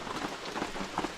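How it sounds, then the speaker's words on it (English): Rain falls steadily around a parked van while boondocking, an even, close hiss of patter with no talk. "I've had a bit of a break from the downpour and it looks like it is easing off a little bit."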